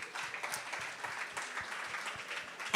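Audience applauding at the MTN Bushfire 2022 festival launch, a soft steady patter of many hands clapping at moderate distance, ending in a brief louder burst.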